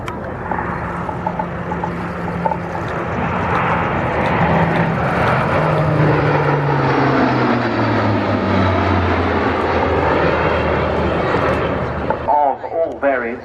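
A transport aircraft from 436 Transport Squadron flies its display at the RAF Cosford Air Show. A loud, sustained engine roar drops in pitch as the plane passes, while an announcer talks over it.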